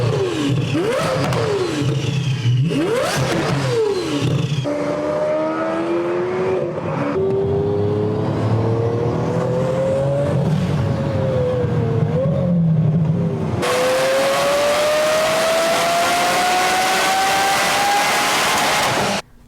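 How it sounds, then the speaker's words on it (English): A Lamborghini Aventador V12 fitted with a twin-turbo kit revs hard and loud, its high-pitched wail climbing repeatedly through long sweeping pulls with no talking over it. "They developed a twin-turbo kit for the Aventador V12 that retains this F1 sound"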